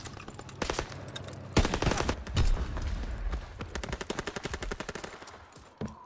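Rapid machine-gun bursts and single rifle shots crack through a Call of Duty: WW2 battle, loud and close, with dense volleys early on followed by a steady rhythmic stream of shots that fades slightly toward the end.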